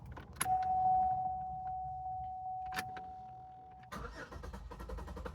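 A car engine, flooded by a faulty EGR valve, cranks hard to start; a steady electronic tone runs beneath clicks before a rough, rumbling engine noise takes over near the end.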